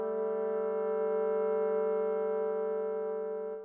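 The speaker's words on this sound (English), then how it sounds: "Second's a major second." A sustained tone with a steady harmonic stack plays a major second interval for ear training in a music theory lab, holding evenly for over three seconds before cutting off.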